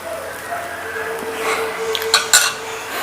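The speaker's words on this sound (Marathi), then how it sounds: "हलक्या हाताने आपल्याला डोसा पसरवून घ्यायचा आहे" Bread dosa batter spread thinly across a hot pan, a soft scraping swish followed by a couple of sharp metallic clinks of the utensil near the end, close up and with no talking.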